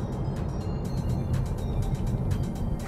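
A Tesla on Autopilot travels a narrow, winding road, with steady low road rumble and engine-free drive noise filling the cabin, faint ticking clicks above and no one speaking.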